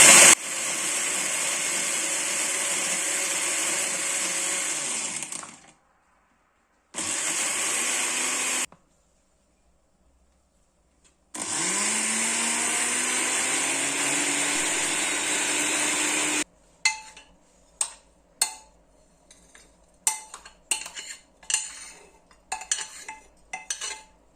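Roasted hazelnuts ground in a food processor: a loud continuous whirring grind in bursts with brief silences, then sharp rattling knocks of nuts and blade in the bowl.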